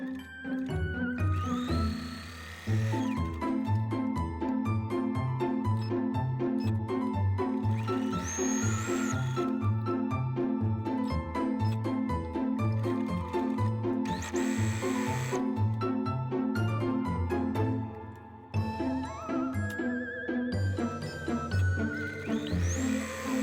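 A sewing machine stitching quilt binding runs close and loud in a fast steady mechanical rhythm, pausing briefly near the start and again toward the end before resuming.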